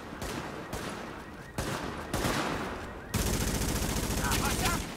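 Rapid automatic assault rifle fire in the PS4 video game The Division, sustained bursts of loud gunshots with short gaps between volleys, the firing growing denser and louder toward the end.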